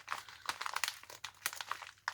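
Crinkling and tearing of a mailed package's pull tab being worked with a thumb, a string of sharp irregular crackles and short rips, close and fairly quiet.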